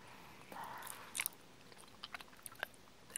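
Sour candy crystals are chewed close to the mic, with soft wet mastication and a series of sharp little crunches and clicks scattered irregularly over a few seconds.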